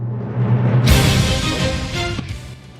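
Orcs Must Die 3 soundtrack music plays alone, a sustained low drone giving way to a bright, full swell of layered instruments that holds steady before easing slightly toward the end.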